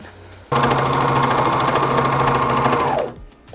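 A sewing machine runs a tight stitch in one loud, steady, continuous burst of rapid mechanical whirring lasting about two and a half seconds, close up, with no talk.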